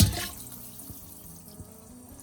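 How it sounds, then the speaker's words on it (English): Water pouring into a pot of Korean seaweed soup, a brief gush at the start settling into soft, faint trickling and sloshing in a quiet kitchen. "We're gonna go ahead and add some more water."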